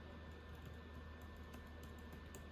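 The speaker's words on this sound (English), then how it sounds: "When I'm typing on it," Soft, quiet keystrokes on an Apple MacBook Air M2 13.6-inch keyboard come through as light, rapid taps in an even stream, low in level against a faint background hum.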